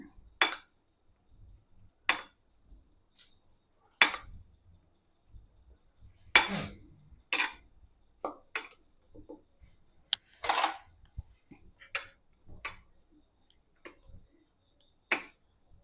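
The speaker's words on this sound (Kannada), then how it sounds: "ಇದೆಲ್ಲ ಮಿಕ್ಸ್ ಮಾಡ್ಕೊಳ್ಳೋಣ." A spoon clinks against a bowl while masala papad toppings with chaat masala and salt are mixed by hand. Crisp taps come one at a time at irregular intervals, close and clear against near silence.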